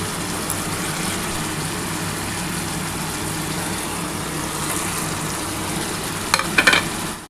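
Eggs frying in spicy masala in a pan for an egg curry: a steady close sizzle with a low hum beneath, ending in a few brief clatters of a utensil, no voices.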